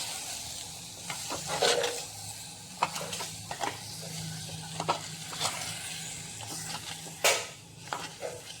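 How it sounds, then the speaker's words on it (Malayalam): Green tomatoes with salt sautéed in hot oil in a pan for a Kerala-style curry, a steady soft sizzle broken by repeated scraping stirs and a few sharp clinks of a spoon against the pan, no voices. "എന്നിട്ട് ഇത് ആ എണ്ണയിലിട്ട് ഒന്നുകൂടി വഴറ്റി കൊടുക്കാം."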